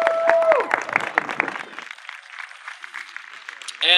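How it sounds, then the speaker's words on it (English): Crowd at an arts foundation's 100th anniversary event applauding the DJ team, a short burst of clapping mixed with voices and a tonal sweep, fading after two seconds into quieter room noise. "please give them a round of applause"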